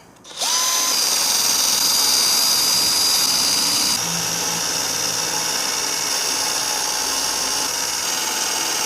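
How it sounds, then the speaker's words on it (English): A loud, steady power drill whines continuously at close range while removing surface rust from metal, its pitch dropping slightly partway through as it grinds. "First, with the drill to see if this even works"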